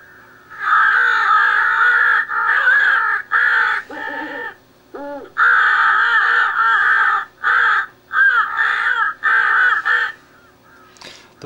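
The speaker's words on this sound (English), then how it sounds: "And this one here says crow and owl fight." Harsh, frantic cawing from a Cass Creek electronic crow caller playing a crow and owl fight call, long loud bursts of overlapping crow cries mixed with lower hooting wavers and short gaps, ending in a brief squeal.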